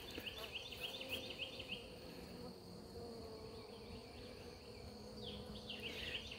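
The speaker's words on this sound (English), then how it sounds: "it looks like there's a good many bees in the top too" Honey bees drone steadily in an opened Langstroth beehive box, a faint, continuous buzzing with individual bees whining past close by.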